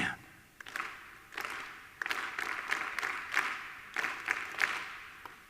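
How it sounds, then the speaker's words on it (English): A classroom audience claps out a simple rhythm together, bursts of group clapping in short repeated patterns with brief pauses between phrases, moderately loud in a reverberant room. "Could we just try clapping this out?"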